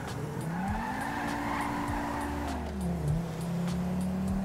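A car engine in GTA 5 with a V8-like tone drones and rises and falls in pitch as it revs and shifts. Tire squeal and skidding come through over steady road noise.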